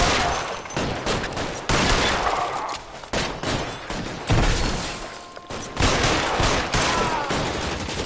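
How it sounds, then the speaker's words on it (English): A shootout in the video game L.A. Noire erupts in dense bursts of gunfire, loud and close, with rapid overlapping shots broken by brief pauses. "Их там стреляют."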